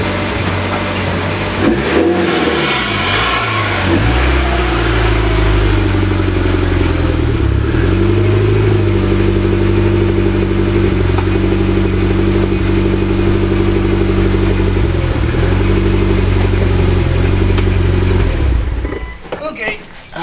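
A Mitsubishi Lancer EVO X fitted with a Fujitsubo exhaust drives in, its engine a loud, steady low rumble held close for most of the time before it cuts off and fades at the end.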